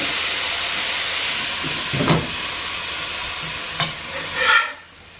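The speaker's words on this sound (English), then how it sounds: "Just don't steam or stir fry them too long." Bean sprouts stir-fry with garlic and soy sauce in a hot pan, giving a continuous loud sizzling hiss broken by a few short clattering stirs before the sound abruptly cuts off.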